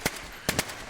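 Gunshots from a supposedly suppressed gun in a zombie survival video game: three sharp cracks, one alone and then two in quick succession, over quiet background noise.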